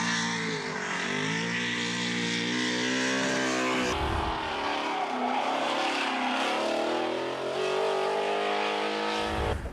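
Subaru BRZ race car with an 850 horsepower, 440 cubic inch naturally aspirated engine, revving loudly and continuously up and down through high rpm, close and dominant with no talk.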